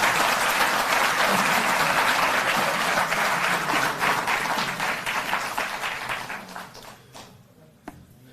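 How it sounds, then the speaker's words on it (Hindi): An audience at a Delhi government ceremony for Jal Board workers claps in a strong, dense round of applause that gradually thins and fades out. "जोरदार तालियों से आप अभिनंदन करें"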